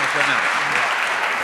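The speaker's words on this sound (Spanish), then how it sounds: "lo recibamos con un fuerte aplauso" Strong, continuous applause from an audience at an international conference on city, commerce and tourism, loud and unbroken for the whole stretch.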